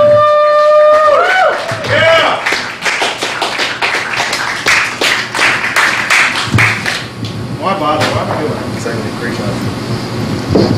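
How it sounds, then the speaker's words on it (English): Comedy club audience at a small cafe comedy night in Richmond, Virginia, clapping steadily in a sustained round of applause with dense overlapping hand claps, a voice briefly speaking at the start. "keep that round of applause going while I check the list"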